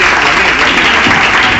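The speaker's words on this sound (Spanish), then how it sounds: "Ven que se aplaude." Studio audience applause on a Cuban comedy radio show, a dense steady wash of clapping filling the whole moment, loud and close with no talk over it.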